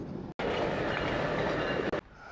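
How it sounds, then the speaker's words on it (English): A train roars past close by at Del Mar on the coast, a loud steady rushing rumble with rail noise lasting about two seconds and cutting off abruptly, with no talking. "you definitely hear the train as it comes through"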